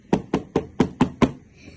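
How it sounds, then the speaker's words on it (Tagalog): Six sharp knocks on a door at an even, brisk pace, close and clear, followed by quiet; no voices. "May kumatok sa punto."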